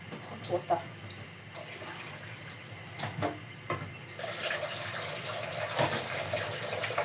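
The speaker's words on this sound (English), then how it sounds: "Hot water." Hot water runs from a kitchen tap as a continuous hiss and splash that grows fuller partway through, with clinks of dishes and a voice speaking over it.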